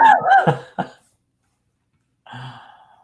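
A few sharp, muffled coughs in quick succession, followed by a short pause and then a softer, breathy rustle.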